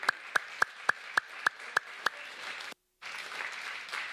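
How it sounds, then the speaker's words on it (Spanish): A church congregation claps in unison, eight sharp even claps in a steady beat, then a brief gap before a dense burst of scattered clapping and voices. "Dele palmas al Señor."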